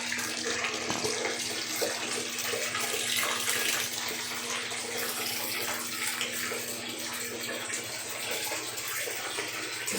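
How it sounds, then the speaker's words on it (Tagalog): Tap water runs steadily into a tub while a dog named as a pet is bathed, a continuous loud splashing gush with little else heard. "Naliligo si Buster."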